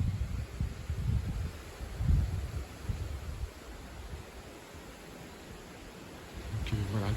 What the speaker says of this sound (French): Que les arbres bougent beaucoup au moindre coup de vent.